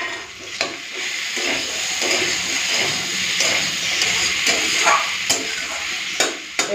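Fried vegetables, including pumpkin, sizzle loudly in a pan with freshly cut green chillies, a close, steady hiss broken by occasional sharp ticks and utensil clinks.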